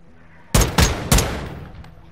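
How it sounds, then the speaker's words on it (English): Three sharp, loud gunshots from the base F-Tech Recon in a video game fire in quick succession, each burst booming and then trailing off, with no talking over them. "if you play with the base version of the F-Tech Recon, it's a very powerful shooting"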